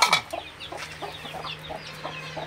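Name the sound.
silkie chicken clucking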